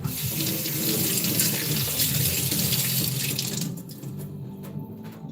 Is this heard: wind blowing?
no